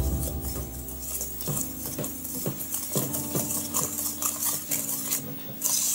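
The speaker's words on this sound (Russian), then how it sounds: "тоже есть венчик, я все помешаю" Whisk stirring almond flour, egg white, sugar and flour in a bowl for a French pastry, with steady scraping and light metallic clinks against the bowl, close and continuous, no talking.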